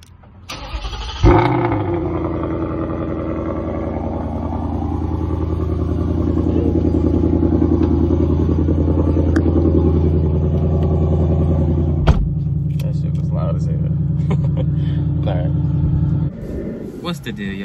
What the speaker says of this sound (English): Give y'all a little cold start before I get in the car.